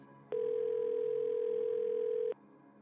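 A steady telephone dial tone, a single continuous pure tone lasting about two seconds, starts and stops abruptly against quiet background.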